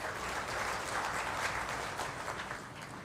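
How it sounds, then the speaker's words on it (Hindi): Steady, moderately faint applause from an audience at a CAG Audit Diwas event, welcoming Lok Sabha Speaker Om Birla, a continuous wash of clapping with no voices on top. "तालियों के साथ स्वागत श्री ओम बिरला जी का"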